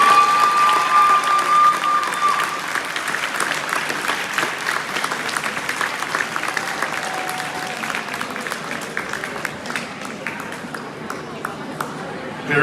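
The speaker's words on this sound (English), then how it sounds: "Please join us in a round of applause for all these seniors." An audience at a high school senior night basketball game claps in sustained applause, with scattered cheers and a few sharp pings, gradually fading over the full stretch.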